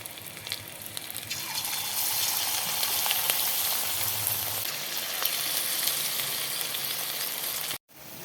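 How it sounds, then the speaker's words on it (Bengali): Chicken pakoras deep-frying in hot oil, a steady close sizzle and crackle running throughout before cutting off abruptly near the end, with no talk. "এটাকে আমি বাকি পকোড়াগুলো ভেজে নেব।"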